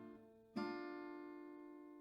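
A single acoustic guitar note rings out cleanly and sustains while slowly fading, quiet and close, with no talking.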